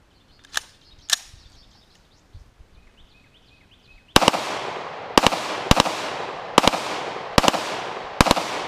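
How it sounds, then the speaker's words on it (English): A CMMG 5.7mm Banshee with a binary trigger fires 40 grain FN 5.7 rounds outdoors: two sharp shots, a pause, then a quick series of loud cracks in rapid pairs with echoing tails. "we are shooting the 40 grain FN57 with the binary trigger."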